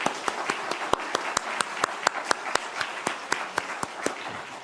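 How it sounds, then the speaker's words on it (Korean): Congregation clapping in a quick, steady rhythm during a special Wednesday anniversary church service, with each sharp clap standing out clearly and evenly spaced throughout. "이 시간 한번 이왕치는 박수 잘 쳐주십시오."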